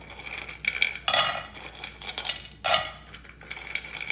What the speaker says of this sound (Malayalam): നമുക്കിതെല്ലാം നട്ട്സ് എല്ലാം ഇതിലിട്ട് കൊടുക്കാം